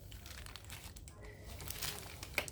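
A glitter heat transfer vinyl carrier sheet is peeled away while still warm after pressing onto a laptop. The result is a faint, continuous crinkling and plastic rustle with a small crackle near the end.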